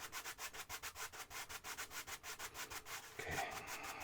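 A cloth wipes rhythmically back and forth across an oil painting easel, about a dozen quick even strokes of close, soft rubbing.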